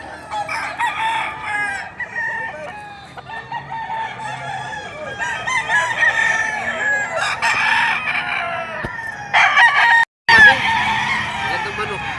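Roosters crow repeatedly over a busy din of clucking chickens at a fighting-cock market in Padre Garcia, Batangas, with overlapping calls near and far and some faint talk in the background.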